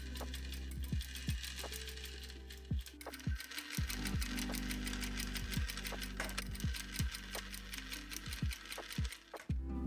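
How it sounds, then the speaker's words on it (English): Sewing machine stitching a waistband onto a skirt, a steady fast mechanical hum and rapid needle clatter with a few brief pauses and restarts, close and fairly quiet, no talk. "it's time to sew it together"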